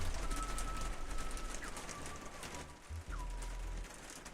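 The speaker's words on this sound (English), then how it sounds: "The rain is intense." Steady, intense rain falls outside, a dense broadband hiss filling the whole stretch at fairly even loudness, with a few faint bird chirps or tones over it and no speech.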